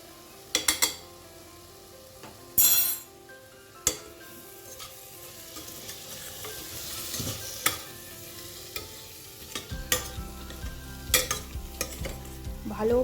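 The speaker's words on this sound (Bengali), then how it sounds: "ভালো করে ঘন করে নাড়তে থাকবো" A spoon stirs an MDH garam masala mixture in a pan for chicken pulao, with sharp metal scrapes and clinks over a low sizzle, and the stirring grows busier and more continuous toward the end.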